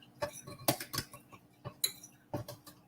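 A metal spoon clinks and taps against glass jars while scooping brown rice, a few sharp close clicks in an irregular rhythm.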